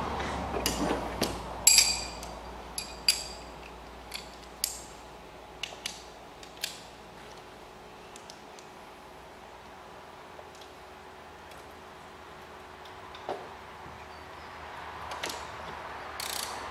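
A ratchet working on a car's clutch bleed screw, sharp clicking bursts in an uneven run of about ten quick ratcheting clicks, close and fairly quiet with near silence between them.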